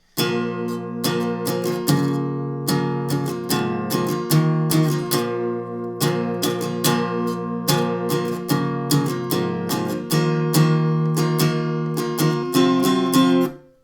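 An acoustic guitar is strummed in a steady rhythm through the opening part of a song, with ringing open chords and regular downstrokes, close and clear with no voice.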